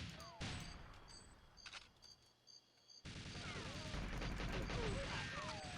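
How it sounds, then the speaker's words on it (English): Automatic turret gunfire in the N64 shooter GoldenEye 007, a quiet sputter of shots that swells into a dense, steady burst of rapid fire with clanking impacts, no talking over it. "there's turrets and... Yep, they can hurt."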